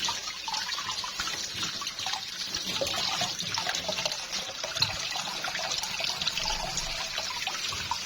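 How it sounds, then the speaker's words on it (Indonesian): Steady running tap water pours over vegetables being rinsed in a kitchen sink, a continuous close splashing hiss with no talk. "Ini pakai air mengalir ya."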